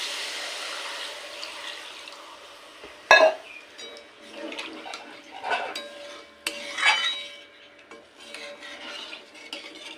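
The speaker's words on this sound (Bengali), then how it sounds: "এই সময় ঝোলের জন্য দিয়ে দেব পরিমাণ মতন জল" Water poured into frying masala for katla fish curry with potatoes, a burst of hissing splash followed by stirring, clinks of a utensil on the pot and bubbling.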